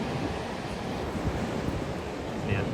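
Steady ocean surf at a beach in Uluwatu, Bali, a continuous broad wash of breaking waves mixed with wind noise on the microphone, with no distinct individual crashes.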